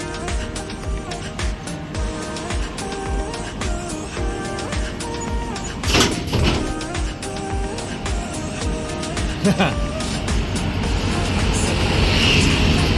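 A loud truck passes on a road beside a Suzuki mobility scooter for the elderly, a broadband rumble building and swelling over the steady hum of nearby traffic.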